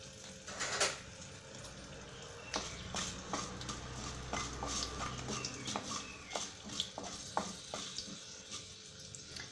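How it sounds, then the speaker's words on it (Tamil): Mustard seeds and chillies tempering in a pan give off soft, scattered crackles and sharp pops, mixed with faint spoon clinks and stirring, fairly quiet throughout. "அதனால் இதில் கடுகையும் மிளகாவையும் தாளிச்சுக்கணும்."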